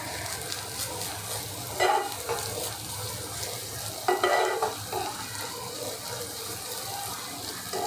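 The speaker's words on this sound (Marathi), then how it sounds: "तर थोडा कांदा भाजत आला की त्यामध्ये आलं लसूण पेस्ट टाकून घेऊया." Onion frying with ginger-garlic paste in a pan for Kashmiri-style dum aloo, a steady sizzle running throughout, with a few louder scraping stirs and clinks near the start and middle.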